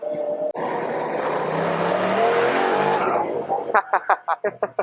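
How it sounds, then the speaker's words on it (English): A turbocharged long-travel Honda Talon side-by-side lets out a loud, close whooshing hiss from its turbo blow-off valve lasting a couple of seconds, followed by a quick series of sharp fluttering engine pulses. "That blow off sounds awesome."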